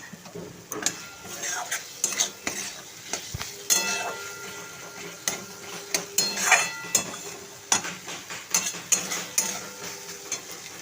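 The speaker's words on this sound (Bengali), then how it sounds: "আলু দিয়ে ভালো করে মশলাটা কষিয়ে নিচ্ছি" Potatoes and spice paste of salt, turmeric, chilli powder and a little sugar being sautéed in a pan, with steady sizzling and frequent scraping and clinking of a spatula against the metal, close and continuous without talk.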